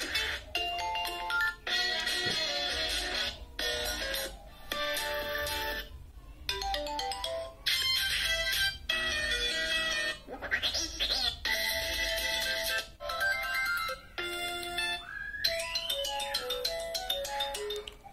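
Ringtone previews on a Tecno Spark 8 smartphone play in quick succession, with short bright melodic jingles that start and cut off one after another at a moderate level.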